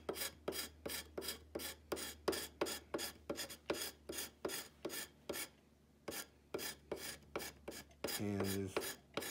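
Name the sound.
scraping black finish off rifle part with chisel scraper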